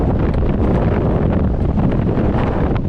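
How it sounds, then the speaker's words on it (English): A strong, cold wind on a mountain climb at Hayden Peak buffets the microphone in a loud, continuous roar with gusty fluctuations throughout and no speech. "it's a strong cold wind, but I feel pretty good."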